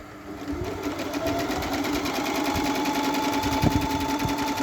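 A Janome N572 mini sewing machine running at full speed, a steady rapid mechanical whir and needle clatter heard up close, continuous throughout with no voices.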